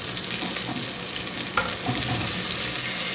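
Onions sauté in a pan for a mutton head curry, giving a dense, loud, continuous sizzle and hiss throughout with faint stirring scrapes.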